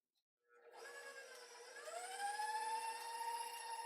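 An electric mixer runs at medium-high speed, beating butter and sugar for a cake: the motor starts up with a rising whine and settles into a steady, fairly quiet tonal hum with no talk over it.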